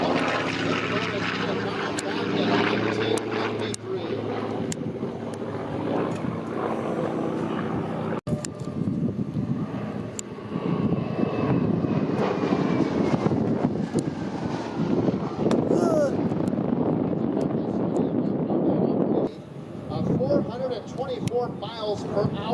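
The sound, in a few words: Grumman F8F Bearcat high-speed pass at airshow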